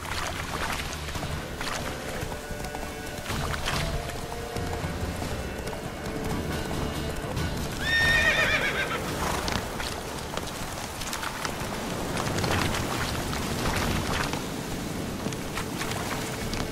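Hooves of Geralt's horse in the video game The Witcher 3: Wild Hunt clop steadily over a low ambient bed, with a brief higher, tonal burst midway that may be a neigh.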